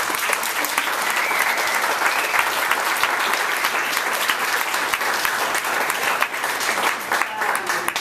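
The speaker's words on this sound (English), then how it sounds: "Let's give them all a round of applause." An audience applauds a discussion panel at an arts and technology event, with steady, dense clapping that stays loud and even for about eight seconds without a break.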